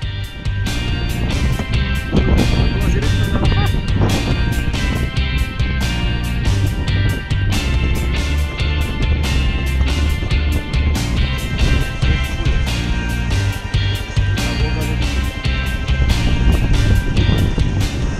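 A Kawasaki KLR650 dual-sport motorcycle descends a loose dirt road on a coastal ride, its steady engine drone buried under heavy, constant wind buffeting on the microphone with no letup.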